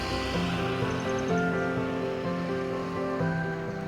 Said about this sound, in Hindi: इतनी शांति है, पानी की आवाज़ आ रही है जबकि वो बहुत छोटी सी स्ट्रीम है।